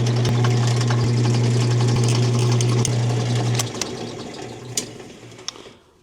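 A drill bores through center-punched holes into a board set behind the workpiece while installing water gauges on a trailer, giving a steady loud motor whine for several seconds that cuts off, followed by faint clicks and handling noises.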